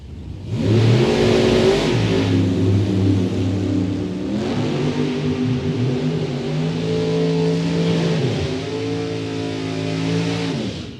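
A 1963 Corvette Roadster on a drag strip roars through hard acceleration, its loud engine climbing and dropping through gear changes over several seconds, steady and close with no voices.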